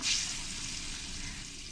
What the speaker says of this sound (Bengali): আমার তেলটা গরম হয়ে গেছে এবার আমি এগুলোকে ফ্রাই করে নেব